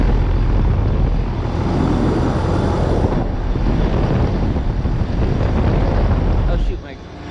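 A 2010 York Odyssey heat pump, about a 7, runs in cool mode with a loud, steady broadband roar from its fan and compressor. The roar holds close and constant before dropping sharply near the end.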